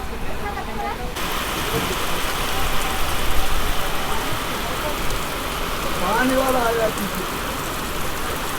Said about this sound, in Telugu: వాన బయటే అనుకున్నా, లోపల కూడా పడుతుందా? మొత్తం కారిపోతుంది.